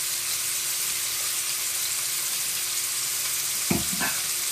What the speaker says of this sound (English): We're just simply searing the outside.